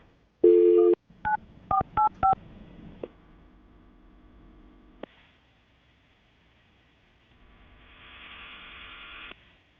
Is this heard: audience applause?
no